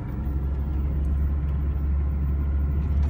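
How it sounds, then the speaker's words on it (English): Vehicles stuck in a traffic jam on the Pamir Highway, a steady close engine rumble and low idling drone holding level throughout with no talk. "This is a traffic jam at the Pamir Highway."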